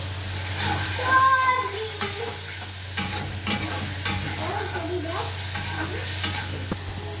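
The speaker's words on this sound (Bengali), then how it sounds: "এই যে আমার মশলাটা কষানো শেষ।" Ginger and garlic spice paste sautés in a pan, frying with a constant close sizzle while a spoon scrapes and stirs in irregular strokes over a low steady hum.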